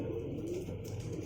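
Soft, low pigeon cooing rolls on steadily for just over a second, a faint, continuous murmur with no voices over it; the birds are sharp-feathered pigeons.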